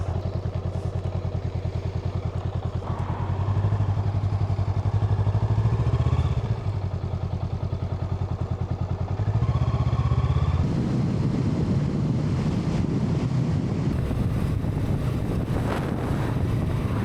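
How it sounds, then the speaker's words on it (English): A Honda Rebel 500 motorcycle on an open ride, its steady engine drone mixed with heavy wind buffeting the microphone, the pitch rising and easing as the bike speeds up, with no talking. "This is the first major ride on the Honda Rebel."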